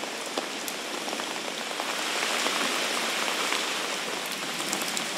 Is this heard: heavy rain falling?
yes